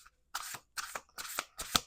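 Tarot cards shuffled in four quick bursts, each a crisp riffling flutter about a quarter-second long with short pauses between, close and fairly quiet with no talking.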